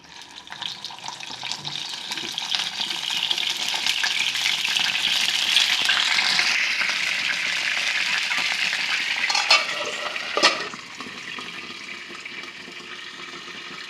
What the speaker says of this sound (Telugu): నూనె వేడైంది వంకాయలను వేసి మగ్గించుకుందాం